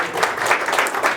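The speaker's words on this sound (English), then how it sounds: "Give him a round of applause." An audience at a DevOps meetup claps in a short burst of applause, a dense, fairly close patter of many hands.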